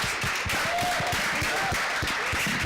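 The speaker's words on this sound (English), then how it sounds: "A round of applause, please." An audience gives a round of applause at the close of a session at a literary talk on biographies and truth-telling: a dense, steady wash of many hands clapping, loud and sustained throughout.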